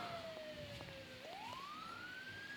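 A police siren in the Roblox game Midnight Cleaner wails in a smooth falling then rising sweep, steady and fairly prominent over a constant background hum, with no talking.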